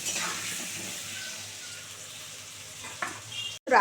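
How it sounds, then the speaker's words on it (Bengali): Steady sizzling of potatoes frying in a hot pan, with a brief clatter of stirring near the end. "ভালো করে আলুটাকে লাল করে ভাজবো"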